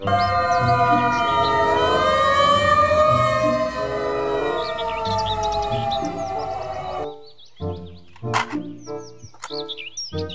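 Toy fire truck siren playing a loud, wavering electronic wail with chirpy sweeping tones for about seven seconds, then cutting off into a few scattered clicks and brief tones.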